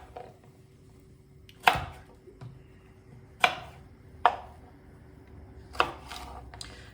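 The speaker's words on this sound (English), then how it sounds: "I'm going to dice up tiny" Knife dicing vegetables on a cutting board while making peanut and greens soup: four or five sharp, separate chops spaced a second or so apart, close and clear over a quiet room.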